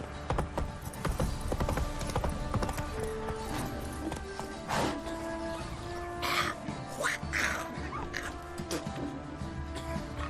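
Roach, the horse in The Witcher 3, gallops with steady, close hoofbeats that keep a driving rhythm throughout, joined by brief tonal game sounds and a low background bed.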